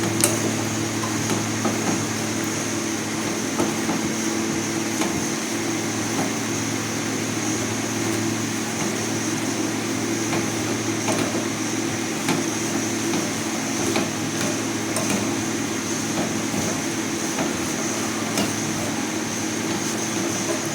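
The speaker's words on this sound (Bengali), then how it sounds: "এখন আমি আলুটা মাখার জন্য লঙ্কাগুলো ভেজে নিচ্ছি" Green chilies frying with cumin in mustard oil give a steady, continuous sizzle with a constant hum beneath it, moderately loud and unbroken throughout, with no talking.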